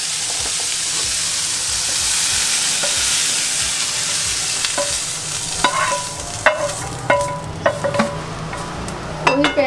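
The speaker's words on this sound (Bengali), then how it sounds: "চিকেনটা খুব বেশি ভাজা হবে না, হালকা ভাজা হবে" Chicken pieces fry lightly in a pan for a Thai curry, giving a steady close hiss and sizzle, joined in the second half by sharp clinks and scrapes of stirring.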